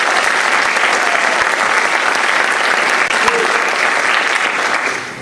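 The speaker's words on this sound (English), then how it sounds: "How about a big round of applause for Miss Patty Easton?" Loud, dense applause from the audience at a high school academic awards night honoring a staff member, sustained clapping with faint voices mixed in, easing slightly at the close.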